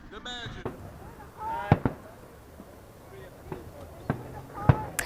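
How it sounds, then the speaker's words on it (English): Fourth of July fireworks pop and bang at a distance, several scattered sharp bursts spaced a second or so apart, sitting faintly under someone speaking outdoors. "as the 4th of July celebrations wrap up and the fireworks behind me conclude"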